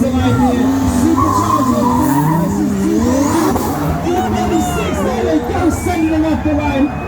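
Drift cars at a racecourse motor show tear around the track, tyres squealing and smoking while engines roar and rise in pitch, a dense continuous wall of sound from near by with a crowd faintly behind.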